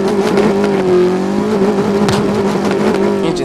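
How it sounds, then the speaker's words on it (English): A Porsche 918 Spyder engine in a video game revs high and loud, holding a strong buzzing tone that rises and falls, close and continuous with no speech. "I think this is called a Porsche 918 Spyder, and let's hear that engine, right?"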